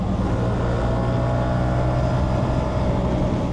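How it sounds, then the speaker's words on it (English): Aprilia Tuareg 660 motorcycle with a 270-degree parallel twin engine, a steady, loud droning engine note held close up with no talk over it. "That 270-degree twin is familiar and fun, but unlike the T7, it's quick and lively when you rev it out."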